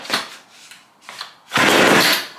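Seized chainsaw sputtering on starting fluid, with short rough bursts that catch and die before a longer loud sputtering run near the end, with no talk.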